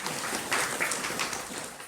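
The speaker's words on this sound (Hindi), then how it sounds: "ताली क्यों बजाई?" An audience at a Guru Purnima sermon claps together in a brief, dense burst of steady applause lasting just under two seconds, with no speech over it.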